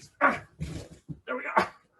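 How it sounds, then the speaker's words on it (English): A big, formerly tiny puppy gives a string of close, whiny whimpers and short yipping barks in uneven bursts, with brief pauses between them. "the very sweet little tiny puppy that you met at the previous conference is now absolutely massive"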